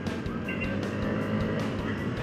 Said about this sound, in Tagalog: Traffic pa rin dito kay Quiapo